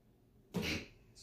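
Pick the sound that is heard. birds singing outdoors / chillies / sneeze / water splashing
sneeze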